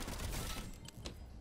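Rapid gunfire from a heavy-recoil gun in the video game Fortnite, a dense burst of close shots filling the first second, then a few scattered shots with no talk.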